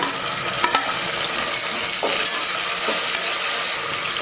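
Tomatoes frying in a pan with onion and ginger garlic paste, a steady loud sizzle with occasional stirring scrapes.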